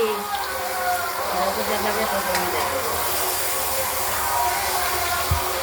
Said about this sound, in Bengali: এবার আলুগুলো ভাজা করে নিচ্ছি।